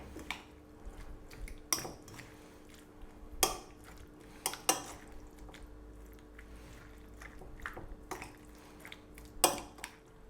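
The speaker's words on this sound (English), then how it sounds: "we're going to give this a little mix up" A utensil scrapes and clinks against a bowl at intervals while mixing a tuna, egg and potato salad dressed with lemon mayo, with soft wet squishing between the sharp knocks.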